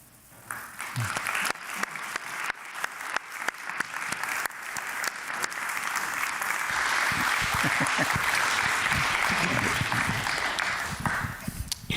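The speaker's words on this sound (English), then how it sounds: "Thank you for the applause" A church audience breaks into applause that starts scattered and builds into sustained, full clapping, loud and steady, before fading near the end.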